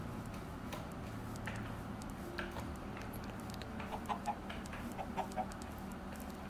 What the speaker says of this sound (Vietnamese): Có vịt kìa, có vịt kìa. Tôi qua, tôi dụ cả vịt về.